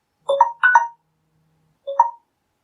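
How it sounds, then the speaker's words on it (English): Electronic telephone tones signal an incoming call, three short two-tone beeps: two close together, a pause, then a third, clear and alone in silence. "Sorry, there's a phone call coming in."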